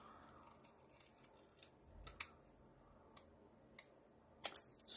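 Scissors snip through paper in a quiet room while a paper snowman craft is being made, giving several sharp, separate cuts spaced irregularly over about five seconds, close up with no talking.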